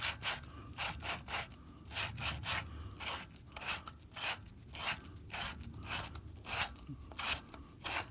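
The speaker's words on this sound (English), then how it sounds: "You hear it grinding. I bought 2 new valve grinding lapping tools, that little wood with suction cups." A wooden suction-cup lapping tool grinds engine valves on a Hercules engine head, producing a series of quiet, rhythmic scraping strokes in short back-and-forth bursts with no voices.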